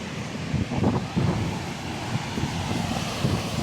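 Strong typhoon wind on a seacoast, a steady loud roar of wind buffeting the microphone with low rumbling gusts throughout.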